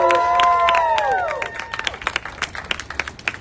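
Crowd at a downtown Los Angeles Black Lives Matter protest rally, where a raised voice or whoop at the start gives way to scattered clapping that thins into separate claps.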